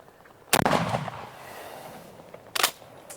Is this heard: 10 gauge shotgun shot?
yes